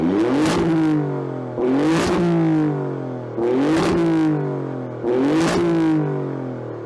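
An Alfa Romeo Stelvio Quadrifoglio Carbon Edition SUV in race mode revs hard four times in a steady rhythm, each loud snarling climb dropping back before the next blip, close by with no talk.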